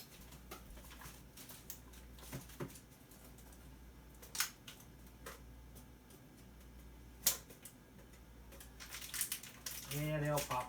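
Keycaps popping off an Acer laptop keyboard being scrapped: a scattering of sharp clicks and snaps at irregular intervals, close by, over a low background hum, with a voice talking near the end.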